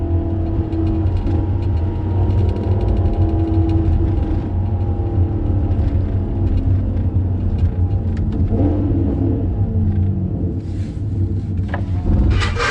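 Maserati fitted with a Ferrari V8 engine idling and revving, a loud, close, throaty low rumble that rises and falls through several blips, with no talking.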